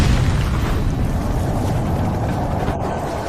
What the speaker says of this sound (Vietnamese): Tại sao lại có tiếng nổ?